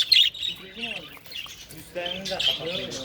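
Budgerigars chirp and chatter up close in short, lively bursts of bright tweets and warbles, broken by brief quiet gaps.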